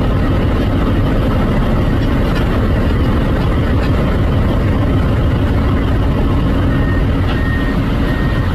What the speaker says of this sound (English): This Komatsu D375A 8 dozer cuts through the ground like a hot knife through butter.